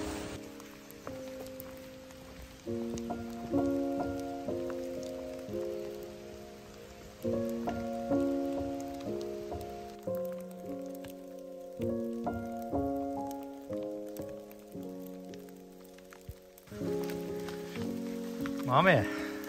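Steady rain falls on a mossy mountain trail on the way up Tengu-dake in the Yatsugatake range, a soft continuous patter running through the whole stretch beneath a melodic, stepped musical tune.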